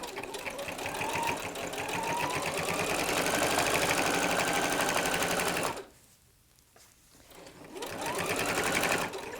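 A sewing machine stitches steadily over a bulky rag quilt seam with a fast, even mechanical whir. It pauses briefly partway through, then resumes at full speed.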